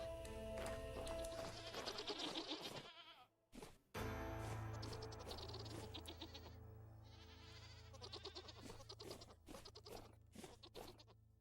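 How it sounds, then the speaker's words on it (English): Goats in Vintage Story, a modded survival game, bleat repeatedly in loud, close calls that overlap through the stretch, with a brief quiet gap early on. "How about the Gen 3 goats over here?"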